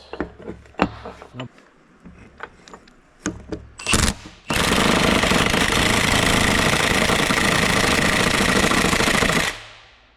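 Pneumatic impact wrench working on a Super Dodge: a few short bursts and knocks, then a long loud continuous hammering rattle for about five seconds before cutting off, close to the microphone.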